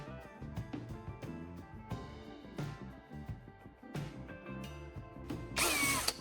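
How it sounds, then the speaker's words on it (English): A power drill bores two small holes into a plastic antenna block made from a hanger, the motor whirring in short uneven bursts close by and ending in a sharp high whine. "I'm drilling 2 small holes into the plastic block on our antenna"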